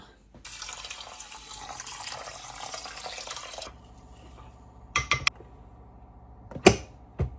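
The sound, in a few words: water filling inner pot of Toshiba rice cooker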